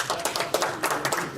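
A handful of people clapping briefly at a conference session, sparse, irregular claps at moderate loudness with no talk over them.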